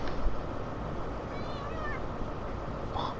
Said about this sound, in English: Here's the train cat.